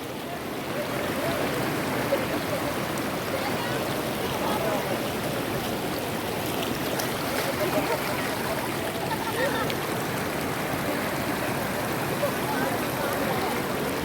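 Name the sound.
water flowing at Aathuparai Falls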